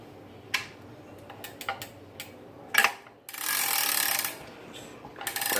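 Worn clicker on a 16/0 fishing reel ticking in short, irregular bursts of clicks, close and fairly quiet, with a longer rushing spin of the spool in the middle.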